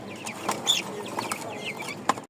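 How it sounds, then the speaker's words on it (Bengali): Fayoumi hens and a rooster cluck softly while feeding, with several short, close clucks and chirps over a low farmyard background. "এটা হচ্ছে ফাউমিটা মোরগ, 2টা মোরগ দিয়েছি।"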